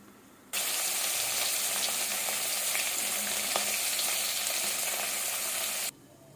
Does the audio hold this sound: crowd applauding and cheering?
no